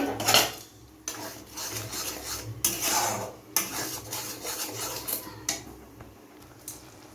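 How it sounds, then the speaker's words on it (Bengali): Metal spoon scraping and clinking against a pot while ground spice paste for a wedding-style doi katla fish curry is stirred, with repeated uneven scrapes and knocks heard close and alone. "এবার আমি এই মশলাটার মধ্যে দিয়ে দেবো দিয়ে ভালো করে নাড়িয়ে নিতে হবে"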